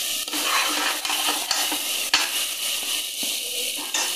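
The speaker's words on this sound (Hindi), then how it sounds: "मसाला भून लें थोड़ा सा 2 मिनट" Masala spices frying in a pan for an aloo chicken curry, a steady bright sizzle with occasional spatula taps and scrapes, close-up and continuous without speech.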